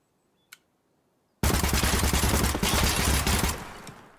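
Full-auto gunfire in the video game Gunsmith Simulator: a short silence with one faint click, then a loud, unbroken burst of rapid shots lasting over two seconds that tails off near the end.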